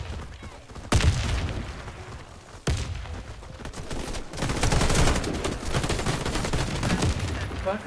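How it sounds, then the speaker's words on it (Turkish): Gunfire bursts and explosions from a Warface online match, with bomb blasts landing on a slope: two sharp loud onsets followed by dense, continuous rattling fire that fills the whole stretch, with no talk. "Yokuşa bomba attık, oyun bitti."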